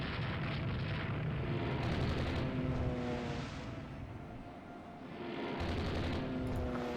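A torpedo strikes a warship in the naval strategy game Rule The Waves 2, giving heavy rumbling explosive booms that swell, dip briefly in the middle and rise again, loud and continuous with no speech.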